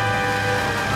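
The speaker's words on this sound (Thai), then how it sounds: "อยู่ๆฝนก็ตกหนัก" Heavy rain pours down in a steady, dense hiss with no pauses or voices over its brief span.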